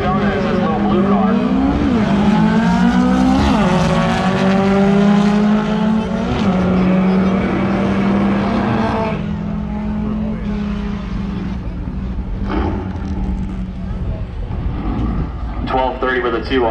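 Drag race cars at a strip event roar at speed, engine tones sweeping up and down continuously and loudly, with an announcer talking over the noise.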